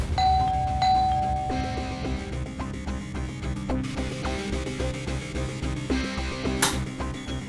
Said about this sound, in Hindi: किसी ने घंटी बजाई